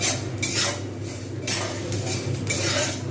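A metal spoon stirs rice dry-frying in a pan, scraping and clinking steadily in repeated strokes, close and fairly loud, with a faint sizzle underneath and no talking.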